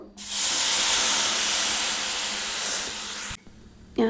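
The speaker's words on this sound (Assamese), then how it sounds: "গাখীৰখিনি দি দিলোঁ" Milk poured into a hot pan, a loud sudden sizzling hiss that bursts in and holds steady for about three seconds before cutting off abruptly.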